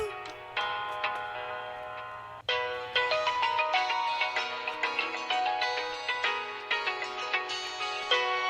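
A phone ringtone plays a bright, chiming melody of quick plucked notes, loud and close, looping for several seconds.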